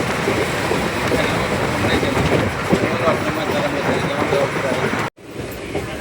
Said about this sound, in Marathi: ट्रेनमधून सुरुवात केली